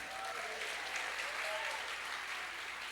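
A church seminar audience applauds, producing a dense, continuous wash of clapping with faint voices calling out beneath it.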